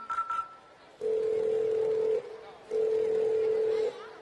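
A telephone being dialed to call a son: a brief high beep, then two long, steady, fairly loud ringing tones separated by a short gap, with no talking.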